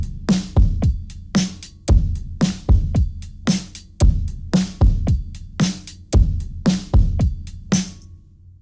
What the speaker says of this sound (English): all of the drums together sound like this in the chorus.